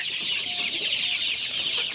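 Tiger hen chicks clucking and peeping close by, a continuous chattering chorus of small birds with a steady bed of noise beneath.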